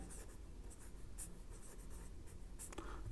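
Marker or chalk strokes on a classroom board during a Class 9 polynomials maths lesson, with short scratchy bursts and steady scraping over a quiet room hum.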